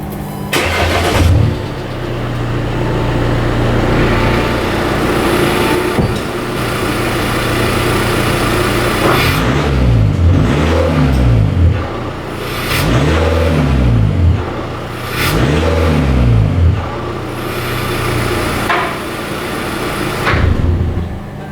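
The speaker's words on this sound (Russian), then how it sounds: "Тихий дизельный звук, который никак не поменялся от наших насадок." An Audi A4 turbo diesel fitted with dual exhaust tips starts and idles with a low, quiet diesel clatter, then takes several short throttle blips that rise and fall, all close to the exhaust.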